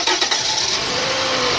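Toyota Camry with a cylinder misfire and a coil not firing, cranking and catching, then settling into a loud, rough, steady engine run close by, with no talk.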